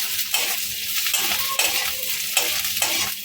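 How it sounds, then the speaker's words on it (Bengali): Onions fried on a high gas flame and stirred briskly in a pan, loud dense sizzle broken by repeated scraping strokes of a spatula, close and without voices. "এখন কিন্তু হাই করে নিয়ে এটাকে ভালো করে নাড়বো"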